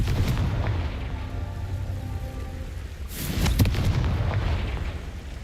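A Confringo blasting spell bursts in Hogwarts Legacy, a loud booming explosion rising about halfway through over a steady rumbling game soundscape with faint crackling debris.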